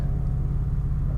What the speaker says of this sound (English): My brother's car is so fucking loud